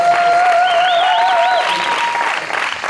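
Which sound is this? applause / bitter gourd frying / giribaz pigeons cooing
applause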